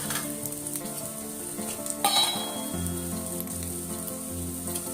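Spiced potato filling with turmeric and chili roasts in a pan, giving a steady sizzle with faint stirring scrapes through the clip and a brief louder clatter near the middle. Background music plays underneath.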